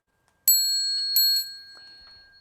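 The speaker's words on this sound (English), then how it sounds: "The bell sound" A bell struck for chanting the Buddhist bell song, rung in two clear metallic strikes whose bright tones ring out and slowly fade in a quiet room.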